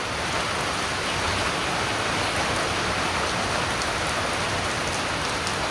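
Steady, dense rainfall hissing and pattering on surfaces, a continuous close wash of drops with no voices.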